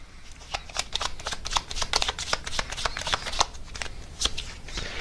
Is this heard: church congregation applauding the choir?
no